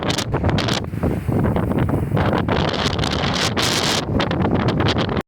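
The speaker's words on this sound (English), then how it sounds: "It's quite windy today." Strong wind buffets the microphone in loud, continuous roaring gusts, with rustling in the background.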